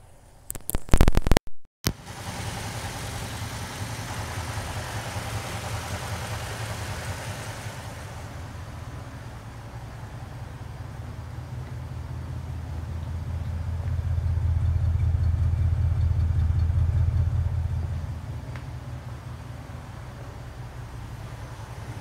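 A cold 1941 Cadillac Series 62 convertible engine starts with a brief burst of cranking, then settles into a steady, fairly loud low idle that swells somewhat toward the end, with no talk.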